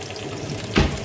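Shrimp paste sizzling in a hot pan, a steady crackling hiss that swells into a brief louder burst near the end.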